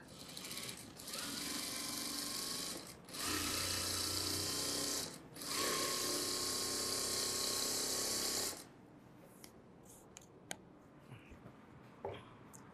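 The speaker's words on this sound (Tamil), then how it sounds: "ப்ரெஸ் தையல் போட்டுக்கோங்க." A sewing machine stitches the lining of a fancy blouse, running in three long, loud, steady whirring bursts separated by short pauses, then stopping, leaving faint handling clicks.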